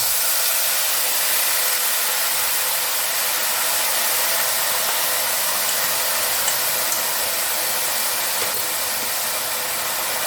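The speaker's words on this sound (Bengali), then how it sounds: "এই বাটা মশলাটা ঢেলে দিচ্ছি।" Ground spice paste hits hot oil in a pan for a Bengali cauliflower dish, producing a loud, dense, unbroken hiss that stays steady and close for the whole stretch.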